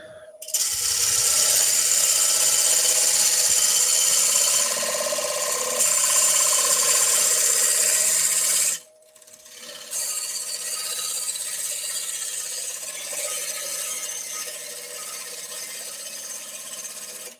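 A wood lathe gouge cuts a spinning wooden cheese platter, giving a steady close rasping, scraping whine that runs continuously, breaks off briefly, then resumes slightly quieter and rougher.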